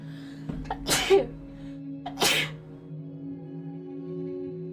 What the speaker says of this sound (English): I've just sneezed really bad.